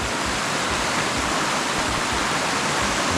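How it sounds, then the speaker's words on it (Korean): Mountain stream near Sinbulsan in the Yeongnam Alps running steadily, a dense, constant close rush of flowing water with no voices. "개울이 있고."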